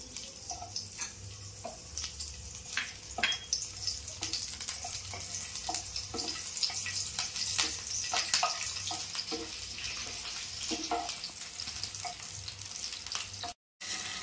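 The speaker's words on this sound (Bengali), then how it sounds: "এবার এর মধ্যে এই যে কাঁচা পাকা লঙ্কা রয়েছে চেরা, এটা দিয়ে দেবো ফোড়নে" Split green and ripe chilies hit hot mustard oil with a steady, close sizzle that crackles and spits throughout, with scattered clinks of a utensil stirring the pan.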